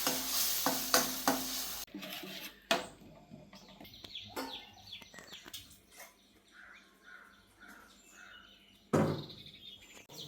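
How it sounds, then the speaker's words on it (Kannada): Ground masala paste frying in a pan after onions, a soft sizzle broken by clattering stirs and a few sharp loud scrapes, with faint bird chirps in the background and no speech. "ಈರುಳ್ಳಿ ಚೆನ್ನಾಗಿ ಫ್ರೈ ಆದ ನಂತರ ರುಬ್ಕೊಂಡಿರುವಂಥ ಮಸಾಲೆನ ಹಾಕಿ ಮಸಾಲೆ ಚೆನ್ನಾಗಿ ಫ್ರೈ ಮಾಡ್ಕೋಬೇಕು"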